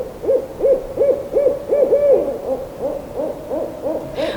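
In a children's animated story, an owl gives a steady series of about a dozen evenly spaced, clear hoots, loud and close, with no voices.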